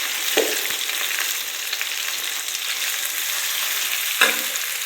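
Tempering sizzles in hot oil in a kadai for poha, a steady close frying hiss with two brief louder bursts as ingredients go in.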